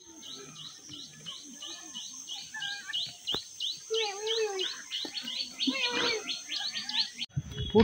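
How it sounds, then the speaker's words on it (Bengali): Birds chirp and tweet steadily in a forest on Parasnath Hill in Jharkhand, a regular run of repeated calls with other songs layered in. Someone speaks briefly over the birdsong, and background rustling grows louder near the end. "একদম হেভেন লাগছে, সত্যি বলছি, এত সুন্দর পাখির আওয়াজ।"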